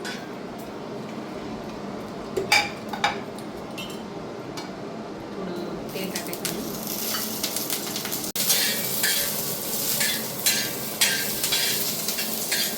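Green chilies roast in hot oil in a pan while making fresh green pea chutney, a steady soft sizzle that grows louder midway, with scattered stirring clinks and scrapes of a spoon against the pan.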